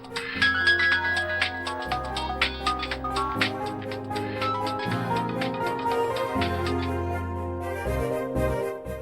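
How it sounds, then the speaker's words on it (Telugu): A melodic phone ringtone plays loud and continuous for an incoming call in a Telugu TV serial scene, with a repeating tune over a steady beat and no voices. "అలెక్య గారు, ఏంటండి ఈ టైంలో ఫోన్ చేశారు?"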